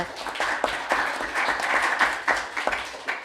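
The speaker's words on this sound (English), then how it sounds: "So a big round of applause for Stephen, and" Audience applause at a professional body's annual general meeting, a steady room-filling clatter of many hands lasting throughout with small swells and no voices.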